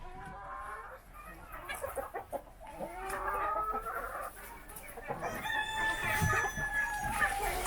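Sultan chickens cluck steadily while a rooster crows loudly near the end, several birds close by in a busy poultry yard.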